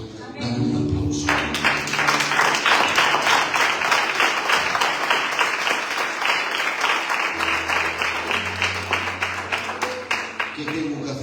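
A church congregation breaks into dense, sustained applause that holds loud for several seconds before tapering, with a voice speaking at the start and again near the end.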